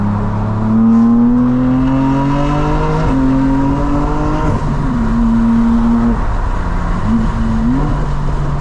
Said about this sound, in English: Car took off.